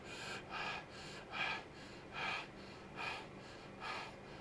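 A person imitates heavy breathing with about six quick, rhythmic, gasping breaths in a row, each a short airy rasp, close to the microphone with no talking.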